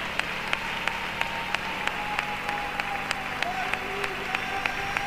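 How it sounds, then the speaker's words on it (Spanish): A church congregation claps in a steady, even rhythm of sharp beats over a continuous background of sound inside the service hall. "Dele un aplauso al que vive para siempre."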